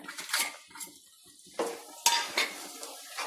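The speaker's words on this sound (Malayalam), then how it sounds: "ഇട്ടിട്ട് നല്ലവണ്ണം ഇളക്കിയെടുക്കാം" A spoon stirs a laddu mixture in a pan with bursts of metallic scraping and clinking, loud and close, with faint frying sizzle between the strokes.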